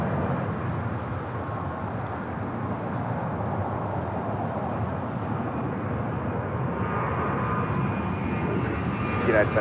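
An airliner takes off from the south side of LAX, its engines a steady, broad roar that holds through the whole stretch, with faint voices mixed in.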